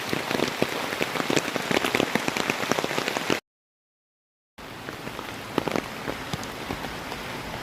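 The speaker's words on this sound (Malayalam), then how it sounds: "നല്ല മഴയും നല്ല കോടയും" Steady rain pattering on a surface with dense scattered drops, cut by a second of silence before the downpour resumes slightly softer.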